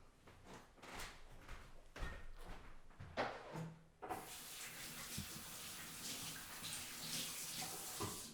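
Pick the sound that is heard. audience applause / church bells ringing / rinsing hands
rinsing hands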